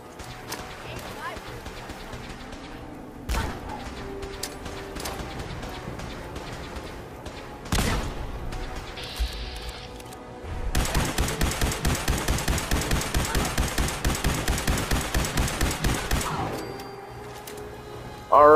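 Rapid automatic gunfire from the video game Fallout 4, in a raider fight at Hyde Park, a fast regular burst of shots lasting several seconds after scattered single bangs, with talk over parts of it.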